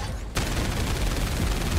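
Sustained shooting from the video game 13 Sentinels: Aegis Rim starts abruptly after a brief quiet moment, then continues as a loud, dense, rapid barrage to the end.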